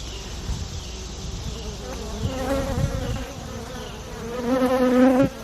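Honeybees buzz densely around a newly introduced queen inside an established hive in fall, a steady close swarm drone that swells and grows louder toward the end.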